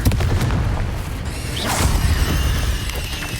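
Confringo fire spell blast in Hogwarts Legacy, a booming burst with a crackling flare about midway through, over continuous dense game sound effects.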